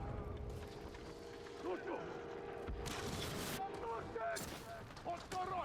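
Gunfire bursts in the samurai action game Ghost of Tsushima, dense and rumbling in a busy mix with music and other game sounds, under a talking voice.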